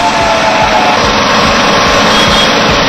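Motorcycle engines roar loud and continuous from bikers riding around India Gate, a dense rumbling drone with repeated throttle pulses and no talk over it.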